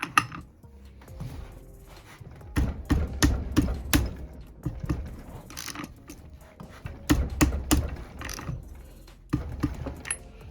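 Ratchet with a clutch holding tool loosening a bolt, bursts of rapid clicking and metallic ticks up close in short irregular runs, no voices.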